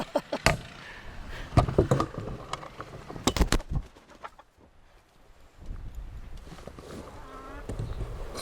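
Rhode Island Red chickens cluck and squawk close by in short bursts, with quieter stretches of background noise between the calls.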